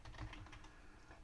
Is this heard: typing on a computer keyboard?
yes